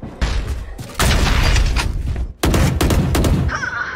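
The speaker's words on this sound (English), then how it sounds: "And Cannon is gonna get shot down" Bursts of gunfire and booms from a high school esports match, loud close volleys in several rapid clusters with short gaps between them, dense and continuous, with no voices.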